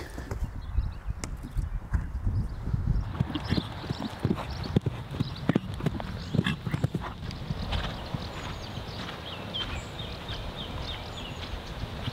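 A young horse's hooves clip-clop in a steady rhythm over ground, fairly close, with a faint whinny and outdoor background noise.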